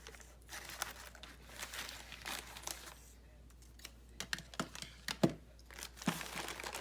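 Close, crinkly rustling and crumpling of wrapping material in irregular bursts, with a few sharper tearing sounds and quiet pauses between.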